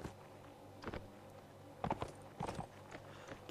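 Hooves clop on the ground in the Napoleonic Wars game, coming as faint, quiet clusters of footfalls with short gaps between them.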